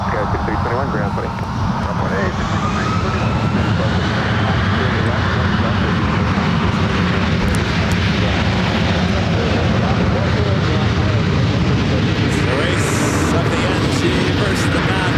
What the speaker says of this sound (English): United Airlines Flight 2611 coming in from LAX. It's a 737 800.